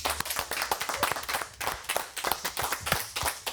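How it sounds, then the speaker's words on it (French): An audience claps for a guest at the close of a French TV show's last broadcast of the season, a lively run of sharp, overlapping hand claps that keeps going throughout. "J'aimerais qu'on applaudisse Philippe."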